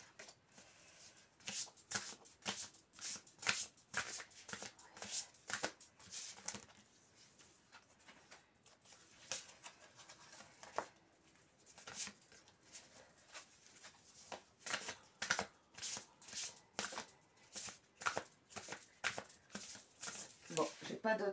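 Oracle cards being shuffled by hand for a card reading, a steady run of quick papery riffles and flicks with short pauses between bursts, close and fairly soft, with a few faint spoken remarks among them.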